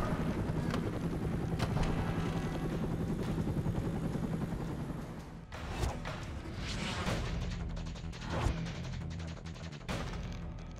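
Helicopter rotor thumping through a Stranglehold firefight at Tai O, a steady low chop under bursts of gunfire, heavy thuds and crashing impacts, loud and close throughout.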